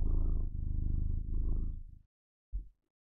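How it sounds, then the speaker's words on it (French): A pet cat purrs in a steady low rumble for about two seconds, very close, then gives one brief extra purr after a short pause, with no talking over it. "Je sais pas si vous l'entendez ronronner, là."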